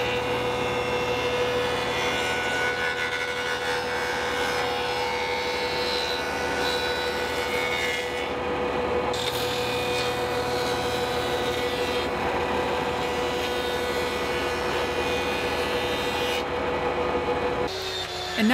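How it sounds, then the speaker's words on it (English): A bandsaw cuts along a marked line in a wooden board, a continuous steady whine and rasp that holds level throughout with brief dips in the upper hiss. "Then I'll follow that line over at the bandsaw."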